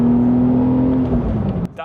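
A Porsche 911 Sport Classic with a 3.8-liter engine accelerates hard, its loud, close engine note rising steadily in pitch for nearly two seconds before cutting off abruptly.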